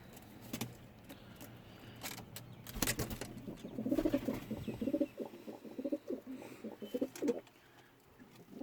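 Pigeons in paired pigeon housing coo in low, throaty repeated phrases at close range, mixed with scattered clicks and rustling sounds nearby.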